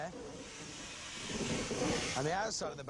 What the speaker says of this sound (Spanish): Se puede oír como cruje y chirría a medida que se condensa el vapor porque se reduce.